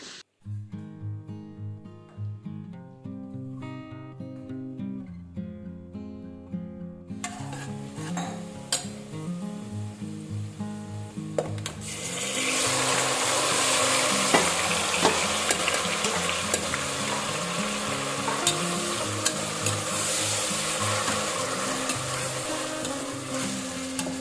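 Marinated vegetables for biryani go into a hot pan, starting under soft music, then a loud, steady sizzle swells and carries on with scraping stirs and faint clinks of the pan.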